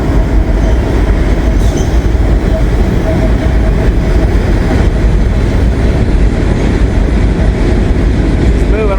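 Slow-moving freight train locomotive with its cars rolling past nearby, a loud, steady rumble of wheels and rail noise with faint squeals throughout.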